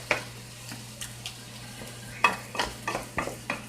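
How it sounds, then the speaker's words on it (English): Ground beef for gravy being chopped up in a frying pan, with sharp spatula taps and scrapes against the pan over a low sizzle, close and irregular, no talking. "So you just chop this up a little bit"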